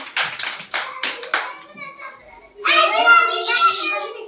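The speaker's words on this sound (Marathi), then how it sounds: "छान टाळ्या वाजवा श्लोक छान केलं" A few sharp hand claps from children ring out close and loud at the start, followed by a voice talking.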